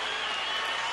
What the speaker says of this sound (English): it's the Mosley people who are celebrating in Las Vegas.